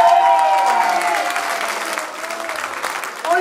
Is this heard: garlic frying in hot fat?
no